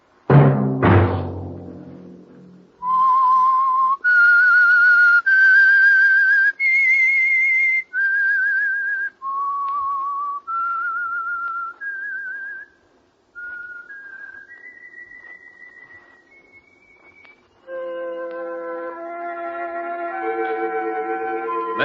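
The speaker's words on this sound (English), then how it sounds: "Let that whistle be your signal for the Signal Oil program, The Whistler" A lone person whistles a slow, eerie melody of sustained clear notes, clean and close, the signal tune of The Whistler radio program, ending with a brief orchestral chord swell.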